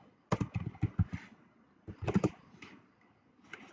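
Computer keyboard typing, two quick runs of close, crisp keystroke clicks separated by a short pause, in an otherwise quiet room.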